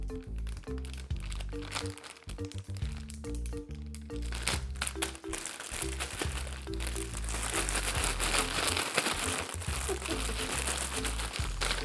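Chicken strips dusted in a powdery Cajun coating get shaken inside a plastic Ziploc bag, giving a continuous close crinkling and rustling over steady background music.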